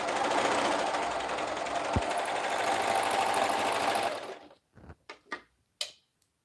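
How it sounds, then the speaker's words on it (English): Sewing machine stitching cuffs onto garments, a fast steady mechanical whir running for about four seconds before stopping, followed by a few sharp clicks and rustles of handling fabric. "and then I sew them all"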